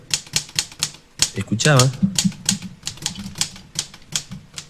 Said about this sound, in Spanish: que adentro sonaba la máquina de escribir